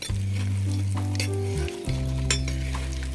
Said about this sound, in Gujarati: આપણે હળવે હાથે હલાવી લેશું